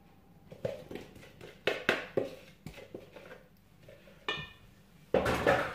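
Bun dough being mixed in a bowl as oil and ferment are worked into the flour, with irregular clinks and scrapes of utensil against the bowl, some sharp and loud, close by and without talk.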